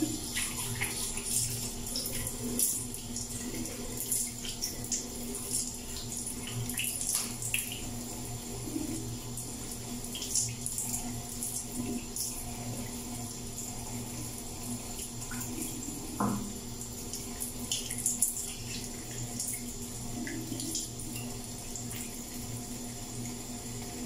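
Tap water runs steadily into a sink at close range while someone rinses their face during a night-time skincare routine, a continuous splashing hiss with a few brief louder splashes and no talking.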